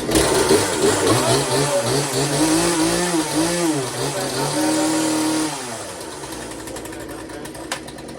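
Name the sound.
Poulan chainsaw engine starting and running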